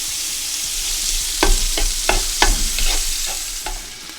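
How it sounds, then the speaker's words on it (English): Beef stew meat browns in olive oil in a pot with a constant hissing sizzle, broken by a run of scraping stirs that come in uneven strokes about every half second. "heat 3/4 pounds of beef stew meat in 2 tablespoons of olive oil"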